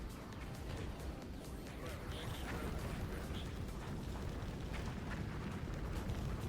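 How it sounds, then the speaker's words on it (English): Dense, continuous rumbling blasts and crashes from space-shooter combat in Project X Light Years, a steady barrage of explosions with no pauses. "Yeah, lots and lots of explosions"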